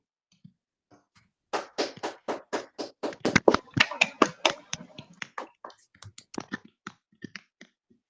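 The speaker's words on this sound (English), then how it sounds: "Can we have a round of applause for Jeffrey?" A small audience claps for a guest speaker after a talk on relativity and paradoxes, sparse and fairly close, starting as a quick run of distinct claps that thins out into scattered ones before fading.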